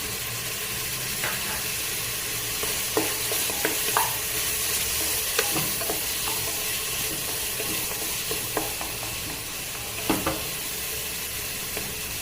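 Tomatoes sauté in a pan for vada curry, a constant close sizzle broken by repeated scraping and stirring knocks spread through the whole stretch, with no voices.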